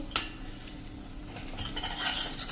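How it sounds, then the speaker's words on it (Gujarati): Yogurt being stirred into an onion and capsicum gravy in a pan, with a spoon scraping and clinking softly against the metal and a brief sharp tap at the start, under a faint sizzle. "આ રીતે આપણે કન્ટિન્યુ ચલાવતા રહેવાનું છે"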